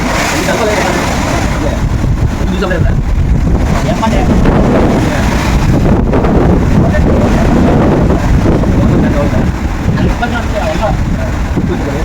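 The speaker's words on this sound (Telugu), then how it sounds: "ఇప్పుడైతే పెద్ద పెద్ద కెరటాలు వస్తున్నాయి" Loud, continuous rushing of wind and churning sea surrounds a large ship sailing from the Andaman Islands to Visakhapatnam through big waves, a dense roar with a low rumble beneath that never lets up.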